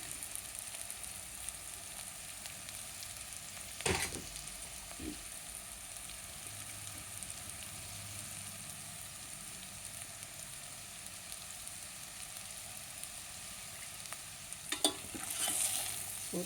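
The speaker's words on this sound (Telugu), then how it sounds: "మసాలాలంతా కలిసేసి సేమియాలకు వేయించుకోవాలన్నమాట." Bambino vermicelli fries with masala in a pan, a low steady sizzle broken by a few scraping stirs close by, with no talking.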